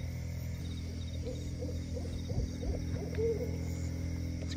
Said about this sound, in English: Great horned owl, guys.